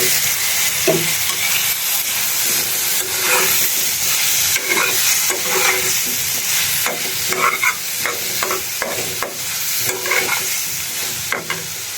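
Garlic hits hot oil in a pan of tilapia curry with a steady, loud sizzle and hiss that runs throughout, broken by scattered clinks and scrapes of stirring, with no voices.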